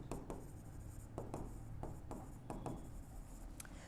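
Pen writing on paper while noting a third installment received in a partnership accounts problem: a run of close scratchy strokes with short taps, steady and near, with no talk over it.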